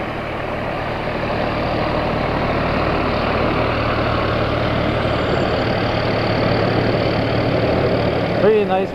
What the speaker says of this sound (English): Three nice bright yellow trucks here from the Malone Fire Department, the Malone Call Firemen.